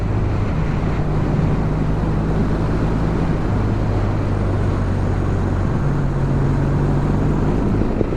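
A 2024 Kawasaki W800 retro motorcycle is ridden through corners, its engine a steady low drone with shifting pitch under constant rushing wind noise.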